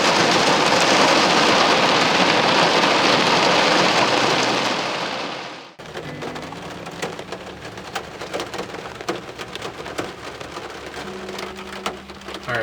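Heavy rain pours in a dense, loud roar during a thunderstorm at a nature reserve, then abruptly drops to lighter scattered dripping and patter.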